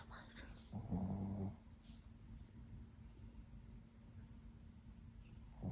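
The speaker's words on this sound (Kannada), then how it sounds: "ಗೋರ್ಕೆ ಹೊಡಿತಾರೆ ನೋಡ್ರಿ ನಾಯಿ" A dog snores nearby, a rough, throaty rasp that swells in one clear burst early on and then fades to soft, low breathing against a faint steady hum.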